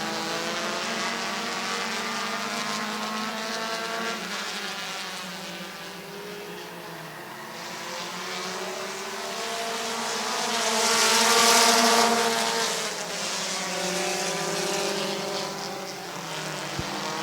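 Race cars battle for second place at Midvale Speedway, a continuous droning engine roar that swells louder near the middle as the cars pass close, with no talk.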